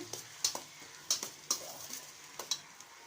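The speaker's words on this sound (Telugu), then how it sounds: "ఇప్పుడైతే క్యాప్సికమ్ కూడా వేసేసుకుంటున్నాను. ఇవన్నీ అయితే ఒకసారి ఫ్రై చేసుకోవాలి." Capsicum, carrot and other vegetables frying for chicken fried rice. A utensil taps and scrapes the pan in sharp, irregular strokes over a faint sizzle, close by.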